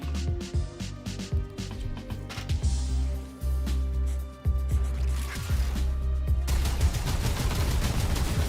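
Gauss weapon firing in the video game Warframe: rapid bursts of loud, punchy electronic shots with droning tonal hums underneath, building into a dense continuous volley near the end.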